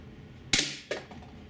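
A GAMO P-900 IGT gas piston .177 air pistol fires a single sharp crack, followed moments later by a fainter knock of the pellet striking, in a quiet setting.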